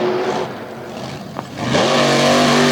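A monster truck engine roars on a dirt track under stadium lights, dipping briefly before surging into a loud, sustained rev that climbs and holds steady, close and unbroken.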